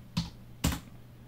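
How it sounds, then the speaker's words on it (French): Two distinct clicks from a computer keyboard while a web address is typed into a browser, spaced about half a second apart, close and crisp against quiet room tone. "je me mets sur Google et je tape Bing"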